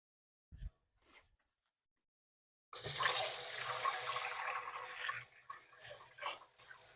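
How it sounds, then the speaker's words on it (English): Water runs from a tap into a kitchen sink during hand washing. A couple of faint knocks break the quiet before a steady, close gush begins and keeps running, shifting slightly as hands move under it. "Let me just wash my hands."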